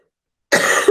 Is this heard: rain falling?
no